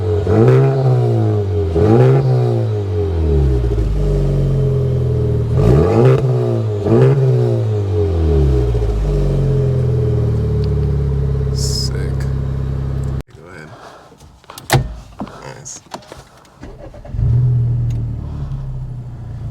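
A 2019 Honda Civic Type R hatchback with a full Mugen exhaust revs loudly several times in quick, rising-and-falling pulls at close range, then settles to a steady idle before cutting off, with brief talk afterward.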